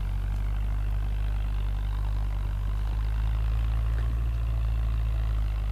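Massey Ferguson 165 tractor engine running steadily in a corn field, a constant loud low diesel rumble with no pauses or changes throughout.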